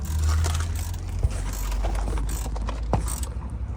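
A ratchet clicks as it tightens the differential bolts on a BMW E93 320i, with rapid mechanical ticks and a few sharper knocks over a low rumbling hum. Nearby and moderately loud, with no talk.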